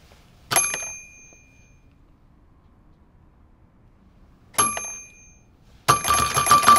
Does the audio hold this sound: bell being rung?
yes